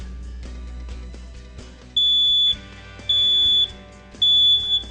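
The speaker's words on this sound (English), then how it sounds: "What a smoke alarm basically does is it senses smoke in the air and goes off like an alarm clock" A loud, shrill smoke alarm beeps three times in evenly spaced, sustained bursts, each lasting about half a second, with a quieter background between them.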